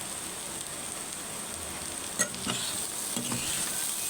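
Bitter gourd fries in a pan with roasted cumin powder, a steady close sizzle broken by a few sharp scraping strokes of the stirring spoon toward the end.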